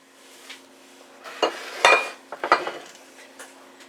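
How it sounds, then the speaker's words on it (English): Whisk clinking and scraping against a bowl while stirring sweet potato pie custard, a few sharp metallic strikes and quick swirling bursts close up, no talking. "get your whisk in here and stir it up really, really well"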